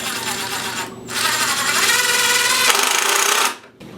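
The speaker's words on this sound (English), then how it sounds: "go ahead and tighten down your clamp and drive home your screws." A power drill drives screws into a wooden child's picnic table, whirring loudly with a brief pause before a longer sustained run that winds down at the end, with light background talk.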